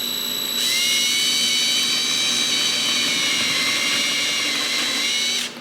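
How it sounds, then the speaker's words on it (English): A half-inch power drill bores into a piece of wood, spinning up quickly and holding a steady, high-pitched whine for about five seconds before stopping abruptly, with no talking. "drill down into a piece of wood"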